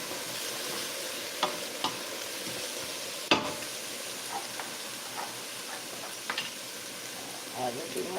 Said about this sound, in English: We're going to saute these celery and onion down